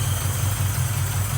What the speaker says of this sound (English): So we did have to create a vacuum leak to keep it idling.